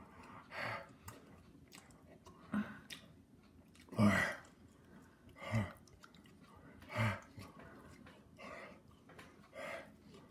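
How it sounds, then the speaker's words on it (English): Someone chews an extremely spicy hot-challenge food in slow, wet, squishy bursts, close and quiet, with heavy breaths and faint murmured voices between the bites. "The chewing is gonna probably kill you."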